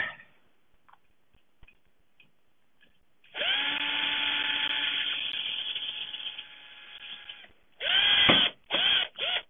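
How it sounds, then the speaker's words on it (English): A power drill boring a hole for a homemade wine air lock whines steadily at high pitch for several seconds, then gives three short sharp bursts after a pause, close and loud with no talking. "So now we also have to drill a hole in this"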